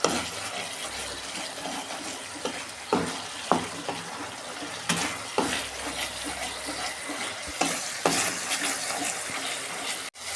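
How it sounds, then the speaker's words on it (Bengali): Spice paste for stingray curry being stir-fried in a pan, a continuous loud sizzle with frequent clacks and scrapes of a stirring spoon throughout. "আমি 2 মিনিট মতন একটু ভালো করে কষে নেবো যাতে কাঁচা গন্ধ চলে যায়।"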